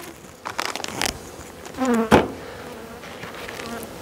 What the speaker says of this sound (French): ça commence à être les abeilles d'hivernage, hein, les abeilles adultes